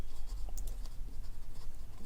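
A pen writes out a math solution on paper, the nib scratching softly and continuously over about two seconds, close and alone with no talk.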